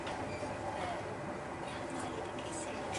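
Steady, even rumble of a smooth-riding European passenger train, a continuous broadband hum with no sharp jolts or clacks.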